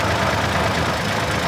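A David Brown 885 tractor's diesel engine runs steadily on a farm, a continuous close rumbling idle with a faint knocking texture and no pauses.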